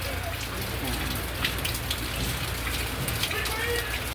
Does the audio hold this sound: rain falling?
yes